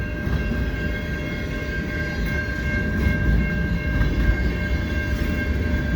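A long CN freight train rolls past steadily in falling snow, a loud continuous rumble of wheels and cars with faint rhythmic clatter throughout, no voices.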